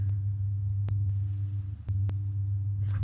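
An oxygen generator in the video game Empyrion hums steadily as it boots up, a constant low electrical drone broken by a few short clicks.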